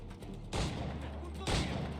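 Gunfire in Assassin's Creed 4 Black Flag arrives as two sharp blasts about a second apart, moderately loud over a low in-game background.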